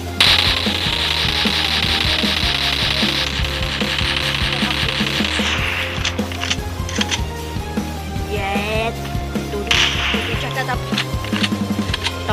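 Rapid bursts of AK rifle fire from the mobile shooter game Free Fire Max ring out over steady game background noise, repeated volleys of crisp shots across the whole stretch, some tight rattling runs, fairly loud and close.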